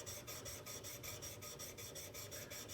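A card scraper edge, flattened, is rubbed back and forth across a coarse sharpening surface, giving a quick, even rhythm of raspy strokes, close and soft, with no talking.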